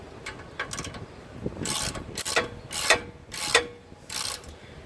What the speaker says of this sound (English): So I'm just gonna torque it till snug right now.